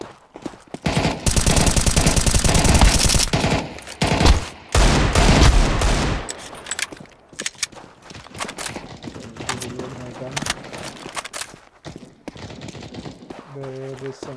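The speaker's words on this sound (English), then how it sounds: "There is some shooting going on here." Gunfire in Counter-Strike 2 on the Dust II map, with loud sustained automatic bursts early on, then sparser scattered shots and game sounds while a person talks.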